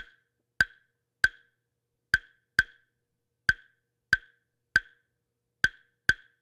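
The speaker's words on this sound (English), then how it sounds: "the first pattern we're going to do is called sewn clave" Claves click out a son clave pattern, sharp dry wooden knocks grouped in a repeating three-and-two figure, close and isolated against silence.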